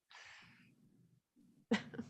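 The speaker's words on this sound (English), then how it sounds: "I'm going to sneeze." A single sneeze during a city committee meeting, preceded by a soft breathy inhale and faint low murmurs, close and fairly quiet.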